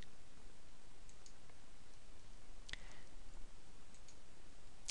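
Sharp, isolated mouse clicks, a few close and crisp over a steady background hiss, with one stronger click near the middle.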